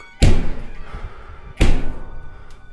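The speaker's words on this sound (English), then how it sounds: "it would be if the knocking sound actually matched up with the door's movements" Two heavy knocks or thuds on a door in a recording, each a loud close single impact with a short decay, about one and a half seconds apart, amid quiet background hiss.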